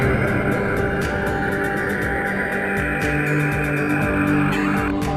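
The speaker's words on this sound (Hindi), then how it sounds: "सटन की आवाज शुरुआत में बांसुरी की कोमल गुनगुनाहट सी लगती है" Saturn's radio emissions recorded by the Cassini spacecraft and converted to sound, heard as a dense, eerie layered drone with sustained tones and a regular series of soft pulses repeating throughout.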